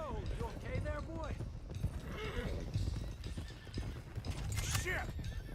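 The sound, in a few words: horse hooves and whinny, from video game Red Dead Redemption 2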